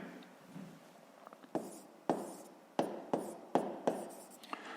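Pen strokes scratch across notebook paper during a sixth-grade math exercise, a series of quick, close scribbles in short bursts with brief pauses between them.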